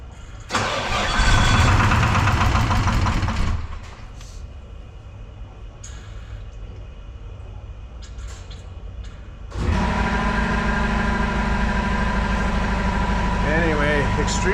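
A Detroit Diesel 4-53T turbo engine with one injector not firing, roaring loudly, dropping to a lower idle for several seconds, then revving back up to a steady hard run, with voices heard briefly.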